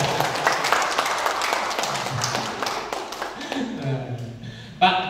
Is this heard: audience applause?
yes